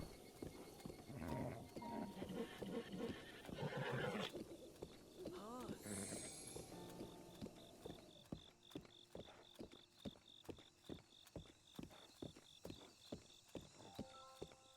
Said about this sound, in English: You're a good horse, aren't you?